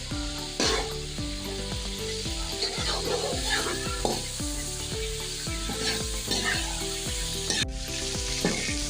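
Garlic paste frying in a pan after browned chicken and onions while cooking Peshawari chicken curry: steady close sizzling with spoon stirring and scraping throughout, continuous and moderately loud, no talking.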